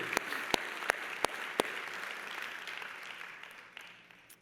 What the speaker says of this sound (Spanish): Si le vas a dar un fuerte aplauso, dáselo fuerte.